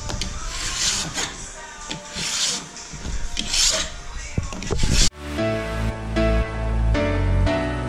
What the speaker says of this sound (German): die letzten Ski werden geschliffen